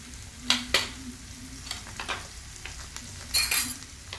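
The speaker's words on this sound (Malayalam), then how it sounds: "നമുക്ക് ഇഞ്ചി വെളുത്തുള്ളി പേസ്റ്റ് ചേർത്ത് കൊടുക്കാം നന്നായി മിക്സ് ചെയ്യാം" Onions fry in a pan with ginger garlic paste while a spoon stirs, giving a soft steady sizzle broken by several sharp scraping clinks of the utensil against the pan.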